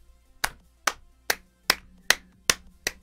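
Seven sharp hand claps in a steady, slightly uneven rhythm, close and crisp, roughly two per second, with no talking.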